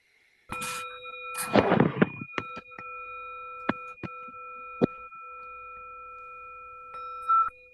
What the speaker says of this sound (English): with a bell at the beginning